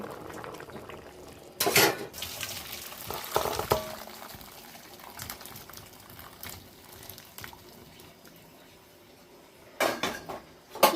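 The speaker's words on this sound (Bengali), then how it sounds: "এবার আমি একটা বাটিতে এটা ঢেলে নেব" Cauliflower, potato and bori curry is transferred from the pan into a bowl with a utensil, giving a few clattering scrapes and clinks of metal on dishware against a faint bubbling background, with louder bursts near the start and end.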